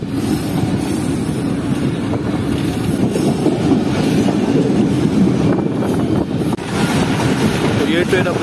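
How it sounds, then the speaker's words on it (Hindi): Pak Business Express passenger train approaching Yousaf Wala railway station, a loud, steady rumble of wheels and carriages with faint clatter throughout and no pause. "ये ट्रेन अप्रोच कर रही है यूसुफ वाला रेलवे स्टेशन पर, स्पीड कुछ इस तरह की है ट्रेन की।"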